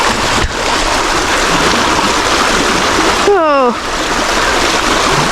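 Water rushing along a stream during a hike in harsh weather, a steady broadband roar throughout, with a brief whistle-like sweep near the end and a short spoken exclamation.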